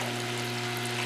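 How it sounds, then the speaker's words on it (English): An air pump pushes air through water in a bucket, giving a steady, close bubbling and gurgling over a constant low hum. "You can actually hear the bubbles in the bucket louder than the pump itself."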